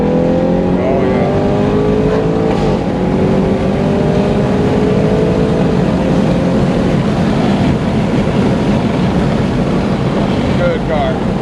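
An Audi RS7 fitted with a loud FI exhaust roars close by while driving, its pitch climbing and falling through revs, with a whistling tone riding on top.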